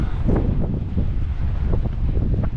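Steady wind buffets the microphone outdoors at Cape Otway Lightstation, a continuous low roar with gusty swells and no speech.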